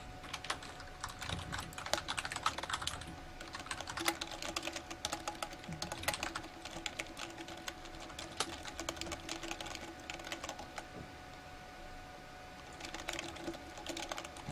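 Continuous quiet clatter of typing on a computer keyboard during a competitive online game match, irregular rapid keystrokes heard close, with no talk.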